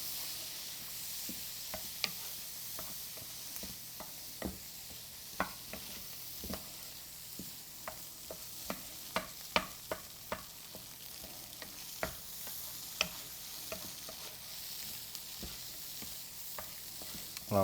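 Southwest tofu scramble stirred in a hot pan, a soft sizzle underneath irregular clinks and scrapes of the utensil against the pan, close and steady throughout.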